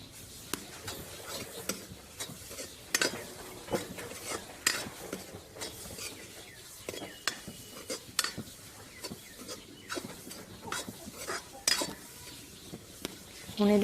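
A spoon stirs a spoonful of desi ghee into a cooking dish, giving close, quiet, repeated scrapes and light clinks against the pan, with no talking.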